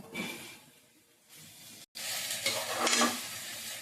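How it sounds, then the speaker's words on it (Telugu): Carrot fry tossed in a pan with salt and two spoons of chilli powder, a steady sizzle broken by scraping stirs, pausing briefly midway before resuming louder and closer. "ఇప్పుడు బాగా మళ్ళీ వేపుకుందాం."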